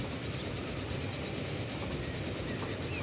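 Steady rumble and rolling clatter of a train passing in the Transport Fever railway simulation game, continuous and fairly loud throughout with no voices.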